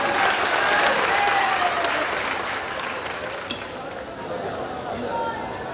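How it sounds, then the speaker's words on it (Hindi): Crowd applause welcoming honoured leaders on stage at the Thawe Mahotsav festival in Gopalganj, a loud, dense burst of clapping that eases slightly midway, with faint voices and stray clinks underneath. "मंच पर बैठे सम्मानित नेताओं को जोरदार ताली बजा करके स्वागत करें"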